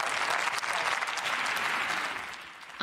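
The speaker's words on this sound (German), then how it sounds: "Armin Laschet bekommt hier fraktionsübergreifend Applaus für seine Rede" Members of the German Bundestag applaud a speech with sustained clapping across the parliamentary chamber that stays loud and steady before easing off near the end.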